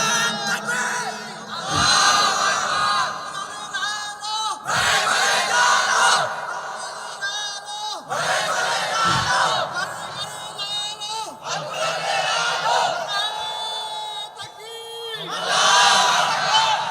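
A large gathering answers with loud, repeated takbir chants of Allahu Akbar in several surging waves, voices shouting in unison with short lulls between each burst.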